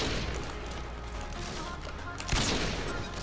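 Rapid automatic gunfire from the multiplayer shooter Modern Warfare 2 (IW4X) sounds as a dense, continuous fusillade of shots, with a sharper, louder burst near the end.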